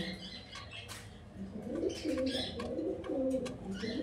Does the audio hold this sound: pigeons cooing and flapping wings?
yes